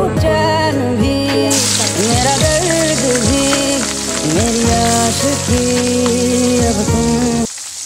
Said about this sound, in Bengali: এখন পেঁয়াজ বেরেস্তা করতেছি